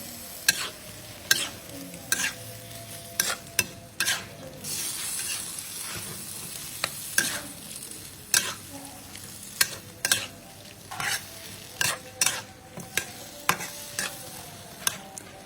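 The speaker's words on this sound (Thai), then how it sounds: "จากนั้นก็ผัดต่อค่ะ ผัดไม่ต้องนานนะคะ" Chicken and kale stir-fried in chili paste in a pan, with repeated sharp scrapes and clacks of a spatula in an irregular rhythm over a steady close sizzle of frying.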